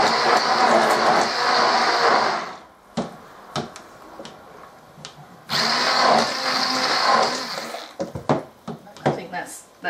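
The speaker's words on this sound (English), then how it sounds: "I'll just stir with the blender to start with, I think." A stick blender whirs in bursts while mixing a batch of soap, two loud sustained buzzing runs separated by pauses filled with clinks and clatter, with a person talking.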